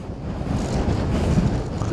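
Strong wind roars and buffets steadily against the microphone on a rainy, foggy motorcycle ride toward Tagaytay, loud and continuous with no other sounds.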